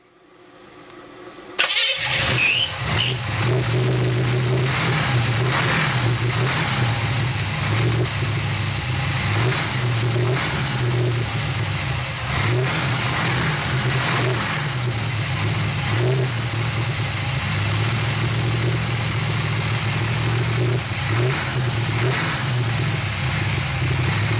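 A 350 SS car engine cranks and catches on its first start after a brief quiet moment, then settles into a loud, steady, slightly uneven idle that rumbles on close by with small surges.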